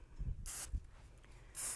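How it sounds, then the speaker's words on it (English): Hairspray from an aerosol can misted over styled hair in two short bursts of bright hiss, the second near the end, with soft handling noises between. "And then you just take your spray and you spray over top of it."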